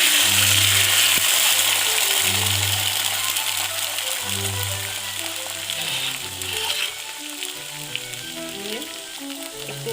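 Loud, close sizzle of dal frying in hot oil with two bay leaves, a dense hissing crackle that is strongest at the start and eases slightly, with a low hum and faint stirring underneath.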